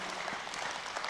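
Audience applause at a real estate business gathering in Nigeria, a steady broadband patter of many hands clapping at moderate level, filling the short moment without speech.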